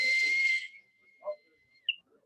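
A whistle is blown in one shrill, loud blast lasting about half a second, followed by a quieter trailing tone and a brief second chirp, with faint background voices.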